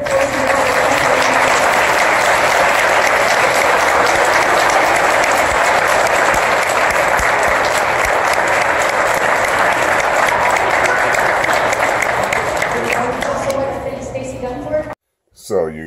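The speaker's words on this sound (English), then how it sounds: "Can we please give these boys a round of applause?" Loud, sustained applause from an audience after a performance by a group of boys, with crowd noise and voices under the clapping. It stays steady for about fourteen seconds, then thins out and breaks off near the end.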